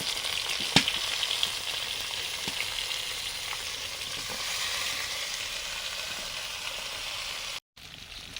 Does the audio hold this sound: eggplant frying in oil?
yes